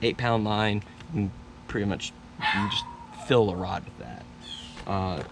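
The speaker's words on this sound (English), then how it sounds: "apologize for the dog and the bark and in the background" A dog barks and yips in the background while someone talks over it about fishing line, the barks coming in short bursts between and under his speech.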